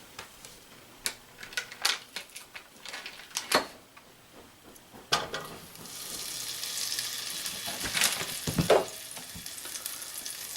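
Linguiça and red pepper flakes frying in a pan, a steady sizzle building into a thick crackle, broken by sharp clatters and stirring knocks from the pan and utensils.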